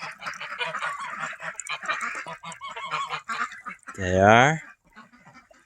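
A single loud honking quack from a duck rises near the end at a cold winter duck pond in central Ohio, following a stretch of someone talking over flowing water.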